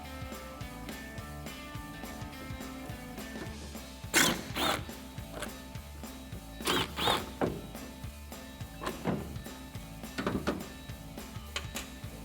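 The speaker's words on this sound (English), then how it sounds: "we're going to grab a T15 torque socket or Torx bit. We're going to remove the 2 bolts on the inside of the taillight." A T15 Torx socket on a ratchet loosens the taillight bolts on a 2014-2018 Silverado 1500, giving a few short bursts of close, clicking ratchet sounds over a low steady background hum.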